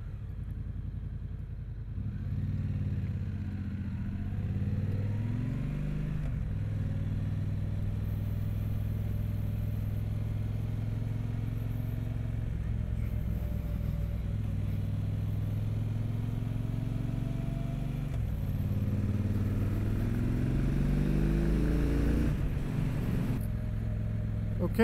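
A 2022 Triumph Speedmaster Goldline Edition cruiser with a 1200 twin engine rumbles steadily while riding, with its pitch rising and falling through several gear changes under constant wind noise.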